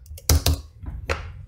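Typing on a faulty computer keyboard, a few sharp, distinct key clacks spaced irregularly, close and clear with a low background hum.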